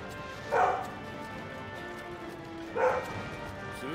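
A female dog barks twice, about two seconds apart, each bark short and moderately close against a low, steady background.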